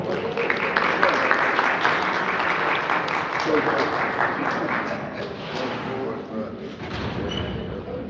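An audience at a candidates' meeting applauds a County Council District 10 candidate, steady dense clapping from a roomful of people that holds evenly for several seconds before easing slightly.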